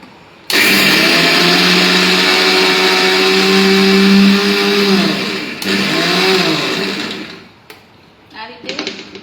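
A kitchen mixer grinder whirs loudly as it crushes tomatoes for bhajiya, running steadily close by for about five seconds, then briefly stopping and restarting before it winds down.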